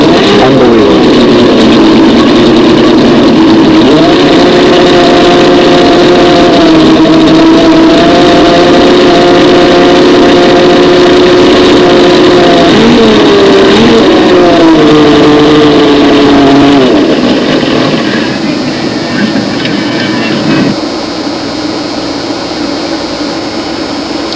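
Steady engine running loudly and continuously, idling with a few rises in pitch like light revving, then dropping to a lower, rougher hum near the end; no talk.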